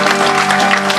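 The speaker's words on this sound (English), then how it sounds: "Ladies and gentlemen, please put your hands together for a great group of guys." A crowd in a bar clapping for the bar team, a brief dense burst of close applause with no distinct voices.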